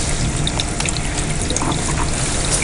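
Water flows steadily across a tilted Miller table used for gold panning, a close, continuous wash with small trickling splashes and no voices.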